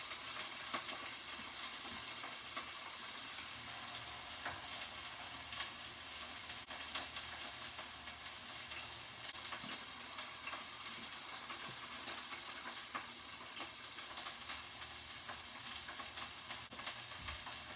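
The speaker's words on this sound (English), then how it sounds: "we're going to sear the steak for 2 minutes on each side" Steak searing in a hot pan, giving a steady, close, loud sizzle with crackling pops that runs unbroken throughout, with no talking.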